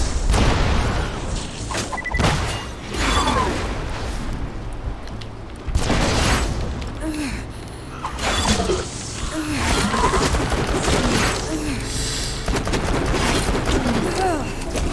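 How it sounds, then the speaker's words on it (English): Loud video game weapon blasts, a proton blast among them, burst out repeatedly over a dense, busy soundscape of booms and crashes, with voices talking underneath. "Proton blast"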